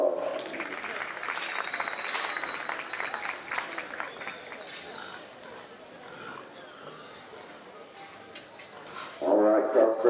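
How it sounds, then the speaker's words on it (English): Audience applause in a livestock show arena during a junior breeding gilts show, moderate clapping that thins out over several seconds, with an announcer's voice and arena noise coming in near the end. "let's give them a nice round of applause"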